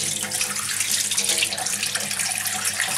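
A rosemary soap bar containing ground rosemary is worked into a lather under a running tap, the steady rush and splash of water close by and continuous, with no talk.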